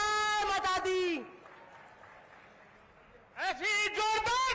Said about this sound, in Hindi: ऐसी जोरदार तालियों से स्वागत